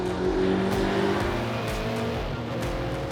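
V8 race car at full pace on a circuit, loud continuous engine roar heard from inside with rising and falling revs through gear changes, no talk.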